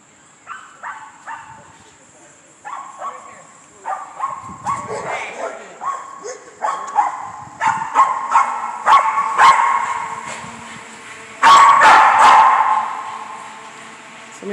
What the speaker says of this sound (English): Got their dog on a little trailer.